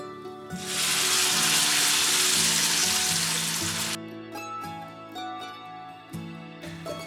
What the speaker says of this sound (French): Une fois que j'obtiens mon caramel ambré, je le verse sur mes pommes.